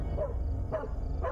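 A dog barks in the horror video game Fears to Fathom, a few sharp, evenly spaced barks heard up close and clear with no talk over them.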